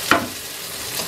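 Onion dropped into olive oil in a pan, a sharp burst of sizzling right at the start settling into a steady close hiss of frying, with no talk.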